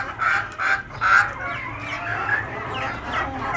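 Desi chickens cluck close by, a run of short repeated calls, louder at first and then softer, over a low background hum.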